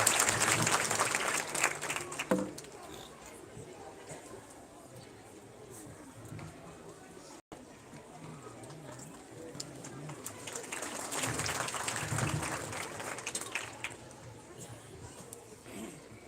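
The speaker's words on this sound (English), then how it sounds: "Please round of applause for Dr." At a school annual day celebration, an audience applauds the chief guest. Loud clapping opens, fades into background murmur and talk, then swells into a second burst before dying down.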